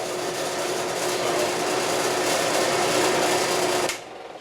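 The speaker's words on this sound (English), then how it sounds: "So, turning the drill press off." A steady mechanical whir from a running drill press, loud and continuous, cutting off abruptly near the end to a quieter hum.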